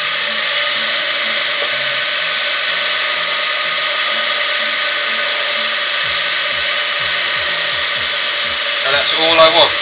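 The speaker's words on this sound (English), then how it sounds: "Get the lathe spinning nice and quick." A wood lathe spins steadily at speed while turning a sycamore platter, producing a loud, constant high whine with a faint tonal hum and a few light clicks near the end.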